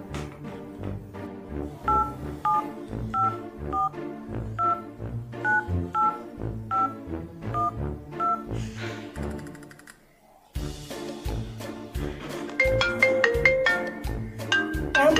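A telephone keypad beeps through a long run of dialing tones in a steady rhythm, clear and close, with a short pause partway through before more tones and a bright ringing-style melody follow.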